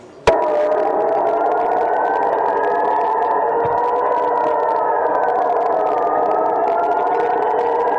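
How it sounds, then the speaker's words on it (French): An air raid siren wails at a pro-Israel rally outside the Israeli embassy in Brussels, starting abruptly after a sharp click and holding a loud, steady, slowly wavering tone without talk. "La sirène que vous allez entendre retentit sans cesse dans le ciel d'Israël"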